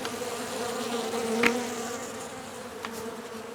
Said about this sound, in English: So good news is these bees are not aggressive, which is great.